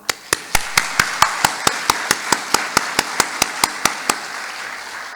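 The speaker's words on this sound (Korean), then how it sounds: "찬송의 축복의 박수를 한번 쳤으면 좋겠습니다" A congregation at a Won Buddhist Sunday service claps in unison, about seventeen sharp, evenly spaced claps in a steady rhythm that stop abruptly after roughly four seconds.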